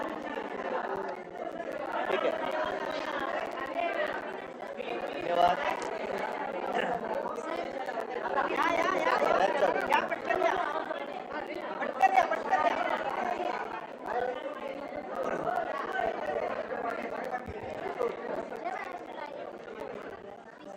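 Steady murmur of a packed crowd chattering at the Shiv Sena chief's press conference after the Lok Sabha election results, many overlapping voices blending into a continuous muffled hubbub.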